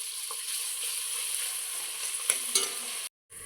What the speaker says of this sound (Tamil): வெங்காயத்தை பொரிச்சு எடுத்துக்கலாம்